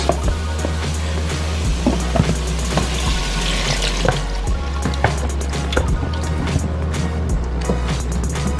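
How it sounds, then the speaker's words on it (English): About a quarter cup of water added to oxtail seasoning, heard as a loud, close splashing and trickling pour with clattering kitchen sounds and a low hum behind it. "of the seasoning along with a little bit of water, just about 1/4 cup of water"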